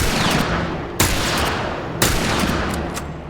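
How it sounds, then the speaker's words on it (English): Ellie's rifle firing in the Coal Mine section of The Last of Us: two loud, sharp shots about a second apart over a dense, roaring background, with each report ringing out briefly. "it's Ellie's rifle in Coal Mine. Just look how it fires."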